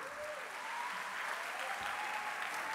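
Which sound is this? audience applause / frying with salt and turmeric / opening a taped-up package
audience applause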